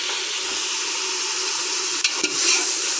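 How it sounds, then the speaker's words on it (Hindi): Mutton sizzles in hot ghee with garlic and onion, a steady close frying hiss broken by a couple of brief stirring scrapes near the end. "गोश्त के साथ ही मैंने इसको भी अच्छी तरह थोड़ा सा फ्राई करना है।"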